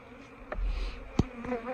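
Honey bees buzz around an open hive box in chilly weather, a steady close drone with brief louder passes as individual bees fly near.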